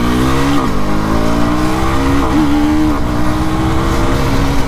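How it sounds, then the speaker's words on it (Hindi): 2024 KTM Duke 250 motorcycle accelerating hard with a quickshifter, its engine roaring loud and close as the revs climb, with two quick dips where gears shift before pulling up again. "इस मोटरसाइकिल का पिकअप काफ़ी ज़्यादा कड़क है।"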